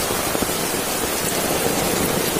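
A heavy downpour gives a loud, continuous broadband roar of falling water, unbroken and close, with no talking over it.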